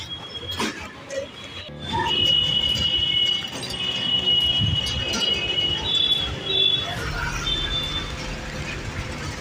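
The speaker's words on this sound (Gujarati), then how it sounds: "આવી ગયું દિલ્હી રેલવે સ્ટેશન." A train at Delhi railway station rumbles steadily, with long, high metallic wheel squeals drawn out over the low roar for several seconds.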